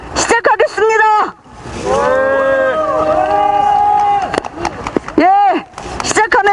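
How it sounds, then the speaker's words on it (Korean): Gathered supporters at a press conference raise a loud, overlapping cheer of many voices. It comes in bursts, with a sustained collective shout in the middle, and a single voice is heard at the start and end. "참석한 동지들의 힘찬 박수와 함성으로 시작하겠습니다."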